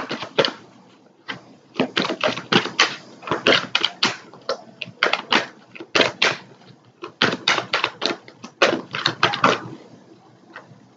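A deck of tarot cards is shuffled up close in rapid, crisp bursts of riffling and flicking clicks, separated by short pauses, with no voices.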